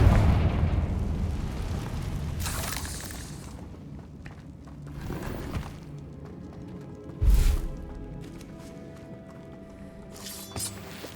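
Blasting spell explosions in the Hogwarts Legacy video game, set against spiders: several booming bursts with a rumbling tail, one heavy blast standing out near the end, amid steady game ambience.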